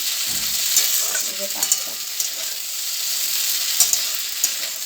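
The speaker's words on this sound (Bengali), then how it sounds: "পাস্তা করছি। ডিম দিয়েছি, আলু দিয়েছি, পেঁয়াজ দিয়েছি, চিনি দিয়েছি, দিয়ে করছি।" Pasta with egg, potato, onion and sugar cooks in a pan, a close steady sizzle broken by several sharp clicks and scrapes of stirring, no voices.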